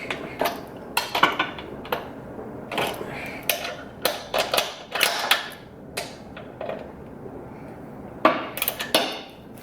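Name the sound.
ratchet loosening cover bolts on Lawn-Boy Dura-Force engine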